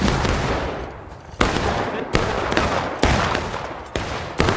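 Dense, continuous machine-gun and rifle fire in a Pickett's Charge-themed multiplayer battle game, a steady crackling roar punctuated by several louder nearby shots at roughly regular intervals.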